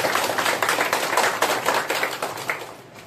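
Steady applause from an audience at a kirtan devotional gathering, clapping for the children as a dense, even patter of many hands that holds for about three seconds and then begins to thin out.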